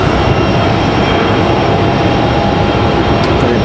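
A JetBlue Airbus A220 at Raleigh-Durham gives a loud, continuous engine roar, steady throughout with no speech.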